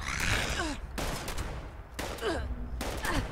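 Gunfire in the online game Fallout 76, sharp cracking shots recurring about once a second with a trailing whine between them, fairly close, against busy background noise.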